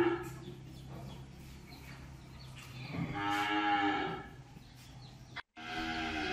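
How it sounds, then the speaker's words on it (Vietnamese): Cattle at a livestock sale, including a cream-colored bull and a young heifer, let out a loud, drawn-out moo that swells mid-clip over steady barn noise, followed by a brief silence and another low call. "Ở lô số 7 thì bò Vinh giới thiệu đến cô chú anh chị một con bò đực kem và một con cái 3B tơ"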